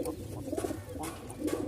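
Rajshahi Giribaz pigeons cooing in a loft, soft low repeated coos in short rhythmic bursts, close but quiet, with faint chirps above.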